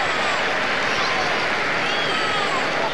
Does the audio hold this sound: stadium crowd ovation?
yes